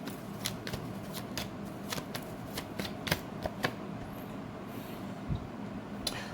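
Tarot cards being shuffled and drawn produce a string of quick, crisp riffling and flicking snaps over a faint room hiss, close and fairly quiet, with sharper slaps here and there as cards land.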